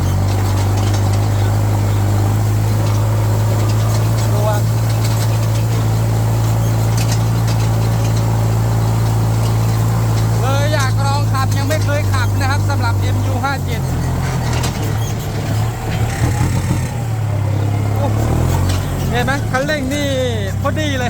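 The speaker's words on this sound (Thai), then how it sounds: "MU 5702ไถนากันหน่อยฮะวันนี้โอ้คันเร่งนี่สบายเลย" A Kubota MU5702 tractor plowing a field, its diesel engine droning loud and steady up close with a deep constant hum, while someone talks over it throughout.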